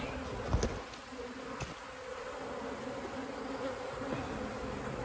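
A honeybee swarm buzzes steadily outdoors, a dense continuous drone with a couple of brief louder knocks near the start.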